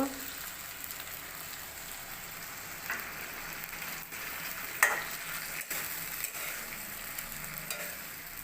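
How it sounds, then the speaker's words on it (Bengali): Spice paste frying with potatoes in a wok gives a steady, soft sizzle, with occasional scraping stirs and a few sharper clinks standing out close by. "এখন মশলাটা ভালো করে ভেজে নেব"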